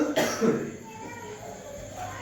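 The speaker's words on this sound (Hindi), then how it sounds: "अभी भी थोड़ा बहुत खांसी है वो" A single short cough, close and fairly loud, followed by quiet room tone.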